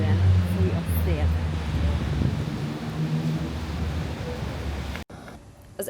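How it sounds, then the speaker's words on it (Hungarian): Strong wind in cold, rainy Barcelona roars and buffets the microphone steadily for several seconds, with a voice faintly underneath, before cutting off abruptly. "Elképesztően fúj a szél."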